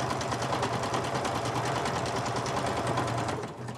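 Close, fast mechanical rattle of a sewing machine stitching through paper bag for a mini journal, running steadily before slowing and stopping at the end.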